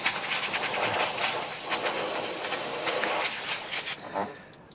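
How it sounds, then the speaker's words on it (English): A steam cleaner hissing in bursts over a Maserati engine bay, a broad loud spray with short pulses, stopping abruptly near the end and leaving only faint traces. "use some steam in conjunction with the actual detailing spray to just give things a hand"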